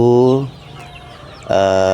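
Young free-range village chicks and a hen in a coop give two loud, close, tonal clucking calls separated by a brief quiet pause.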